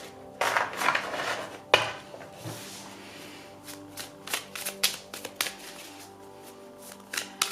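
Oracle cards handled for a tarot reading: a series of soft papery flicks, shuffles and light taps come close and fairly quiet, irregular in rhythm, with no talk.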